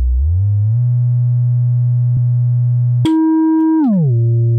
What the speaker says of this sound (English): we shift the pitch back up because it shifts the pitch down, we have even closer to a sine wave now